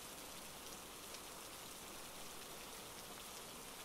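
Steady rain falls in a soft, continuous hiss, even and unbroken, faint and without any voices.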